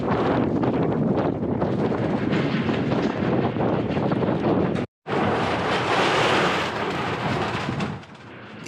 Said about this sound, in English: Even with the far side clad and blocking some of the wind, it was blowing against us the whole time.